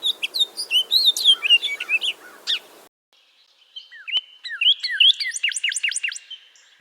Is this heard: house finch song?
yes